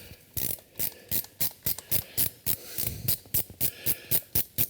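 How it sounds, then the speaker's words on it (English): Ratcheting box wrench turning stubborn Loctite-coated bolts during an upper oil pan reseal on a 2017 Ford F550, a rapid series of close, crisp ratchet clicks in short repeated bursts, with no talking. "a ratcheting box wrench really comes in handy."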